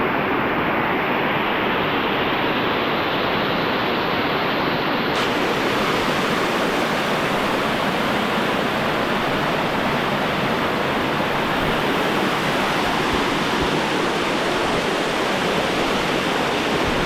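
Waterfall in Ranong, Thailand, roaring as a loud, steady broadband rush of falling water that fills the whole stretch with no breaks and no voices.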